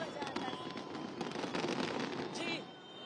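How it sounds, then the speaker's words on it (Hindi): A steady crackling roll of fireworks bursting at a distance, dense popping that continues throughout before easing slightly near the end, celebrating a cricket world championship win. "यहाँ पर असल में आतिशबाजी शुरू हो चुकी है"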